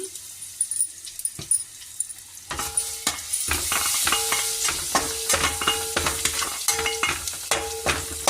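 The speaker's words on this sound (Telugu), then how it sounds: "జీరా గ్రేటెడ్ గార్లిక్ కొంచెం ఫ్రై చేస్తాము" Cumin, grated garlic and hing frying in oil for methi aloo fry. A quiet start gives way to a loud, close sizzle broken by regular scraping and clinking from stirring.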